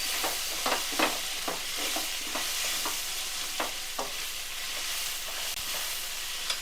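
Ginger garlic paste fries in a pan while a spatula stirs it steadily, giving a continuous close sizzle punctuated by repeated scraping strokes and no voices.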